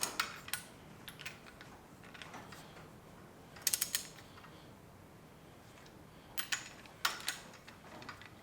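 A ratchet tightening cylinder bolts to 50 foot-pounds during a Case David Brown 1394 engine build, short bursts of rapid clicking separated by pauses, close and fairly quiet.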